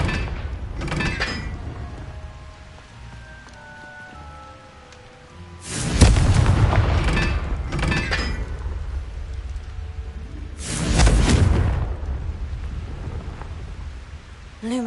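Explosions from the Confringo fire spell in the Hogwarts Legacy video game: loud, rumbling blasts burst out near 6 and 11 seconds, each fading into a long roar, with a softer crackle earlier, and no talking.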